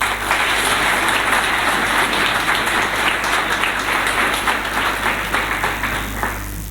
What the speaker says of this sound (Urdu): تو اس کے لیے آپ کے لیے تالیاں.